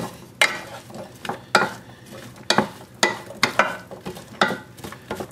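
A wooden spoon scrapes and stirs diced food in a copper pan with a faint sizzle, giving about a dozen sharp, irregular scraping strokes up close with quiet gaps between them.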